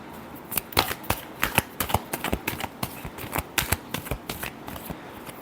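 A deck of tarot cards being shuffled, with a steady run of quick papery riffling snaps and flicks, close and clear, alone without talk.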